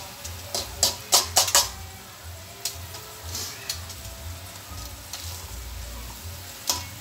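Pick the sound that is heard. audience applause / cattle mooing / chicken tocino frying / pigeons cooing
chicken tocino frying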